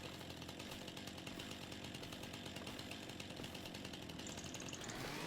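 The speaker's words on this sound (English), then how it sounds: "Running around with the chainsaw." A chainsaw cuts a big tree in Farming Simulator 25, its motor buzzing continuously and loudly at high revs, with no talk over it.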